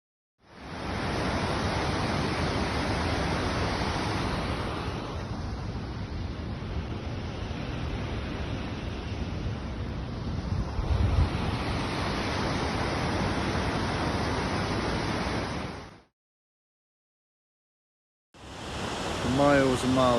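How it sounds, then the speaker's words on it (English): Steady broadband roar of a waterfall in the gorge at Devil's Bridge, Wales, set among pine forest, holding constant and loud for about fifteen seconds before cutting to silence, then returning briefly. "waterfalls right in the distance"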